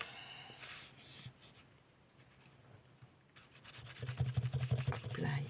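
Paper is glued and rubbed down by hand onto a scrapbook album page, with close, scratchy rubbing strokes in irregular bursts that grow louder and faster toward the end, over a faint low hum.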